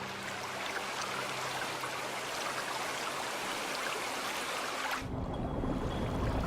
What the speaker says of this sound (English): The downpour can be torrential.